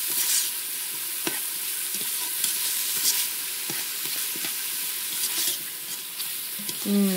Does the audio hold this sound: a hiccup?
no